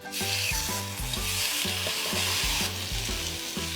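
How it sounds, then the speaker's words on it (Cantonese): Golden pompano, marinated with five-finger peach root and peanut oil, frying in a pan over low heat; a loud, steady, close sizzle and crackle of oil that goes on without a break, no voices. "煎魚咧千祈唔好心急啊，用細火慢慢煎"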